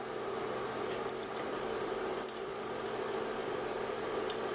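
Chunks of pork ribs deep frying in a saucepan of hot oil, a steady quiet bubbling hiss with scattered small pops and crackles, faint and close with no talking.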